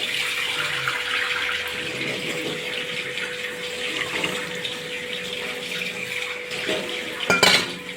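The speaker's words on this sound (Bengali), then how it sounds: "আমি এক বাটি এখানে জল দেবো।" A bowl of water poured into a pan of sugar for syrup, heard as a steady close pour and wash of water with a brief clank near the end.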